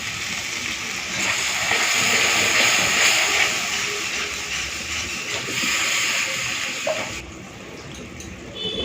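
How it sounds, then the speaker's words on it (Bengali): Masala rinse water poured into hot spices frying in oil in a pan, giving a loud, steady hiss and sizzle of steam that lasts several seconds before settling lower. "এরপরে এই মশলা ধোয়া জলটা দেবো"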